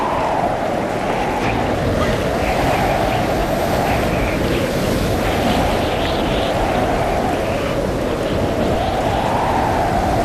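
Wind and waves on the open sea during a storm, a loud, steady roar of rushing water and gusting wind with slow surging swells, continuous throughout with no voices.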